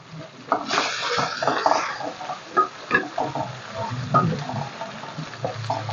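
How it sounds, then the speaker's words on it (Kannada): Chopped vegetables fry in a pan for egg fried rice, giving a steady, close sizzle with stirring scrapes and clinks throughout and no talking. "ಇದನ್ನು ಚೆನ್ನಾಗಿ ಫ್ರೈ ಮಾಡ್ಕೊಳ್ಳಿ"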